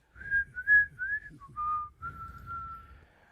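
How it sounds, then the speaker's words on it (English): Someone whistles a short tune close by: a few brief rising notes, then one long held tone, clear and fairly soft with a little breathy low noise underneath. "Otherwise, whistle through that next part."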